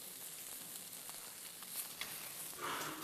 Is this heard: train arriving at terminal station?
no